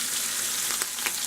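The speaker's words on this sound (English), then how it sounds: "As you can see, our shrimp is frying really good." Steady crackling sizzle of coconut shrimp frying in hot oil, close and continuous, with a few sharper pops rising out of the hiss.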